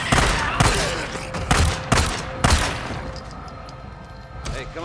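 Pistol gunfire in the video game Days Gone: a rapid series of sharp, loud shots in the first half, followed by quieter game ambience and a few softer impacts.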